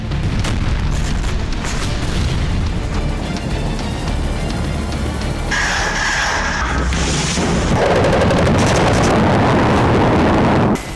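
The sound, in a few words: explosions from Fagot anti-tank missile attacks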